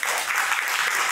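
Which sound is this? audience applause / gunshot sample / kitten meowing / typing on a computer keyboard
audience applause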